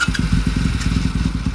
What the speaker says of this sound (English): let's see if it starts after that battery change